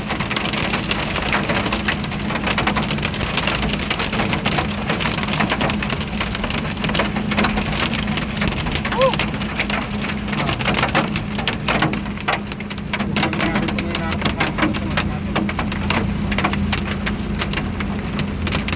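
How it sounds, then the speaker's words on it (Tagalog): Hailstones bigger than corn kernels pelt the front of a vehicle during a storm, a dense, continuous clatter of sharp popping impacts over a steady roar of falling ice and rain, with no voices. "Yan po sa unahan po ng sasakyan namin. Babagsakan ng mga yelo. Parang popcorn."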